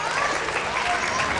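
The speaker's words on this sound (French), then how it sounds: "On l'applaudit très fort." An audience at a magic show claps loudly and steadily, a dense wash of applause that fills the whole moment with no pauses.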